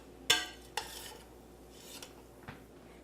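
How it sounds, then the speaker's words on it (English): Spoon stirring cheese into a creamy mixture in a pot, with a few sharp scrapes and clinks against the metal and soft swishing between them, close and fairly quiet, no voices. "we are going to stir this together and make it nice and creamy"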